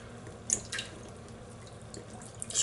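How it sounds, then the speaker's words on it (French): A wet shaving brush is squeezed out by hand, giving a few short splashy drips and trickles of water, close and fairly quiet, scattered over a quiet background with no talking. "Elle est essorée, il n'y a plus d'eau dedans."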